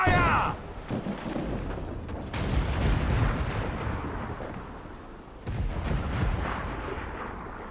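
Deep booming ship cannon blasts from a naval battle in Assassin's Creed IV Black Flag roll out in a dense, rumbling barrage, with splashes and chaotic noise filling the background.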